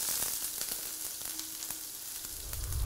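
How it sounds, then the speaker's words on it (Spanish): Bell pepper, onion and meat fry in a pan for stuffed zucchini, giving a continuous close, loud sizzle with small crackles and a brief stirring scrape at the end. "Vamos a freír."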